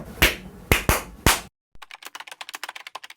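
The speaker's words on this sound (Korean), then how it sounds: "한번 박수 칠까요?" Three loud, close hand claps ring out in the room, then give way to a quick run of lighter tapping clicks.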